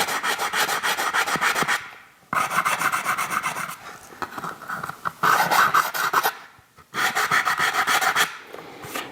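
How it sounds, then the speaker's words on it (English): Sandpaper rasps over balsa wood on a model airplane rudder, the Bvm Super Bandit, in steady back-and-forth strokes, close and loud, with a few brief pauses between bursts. "I'm also going to sand this area up here where we cut"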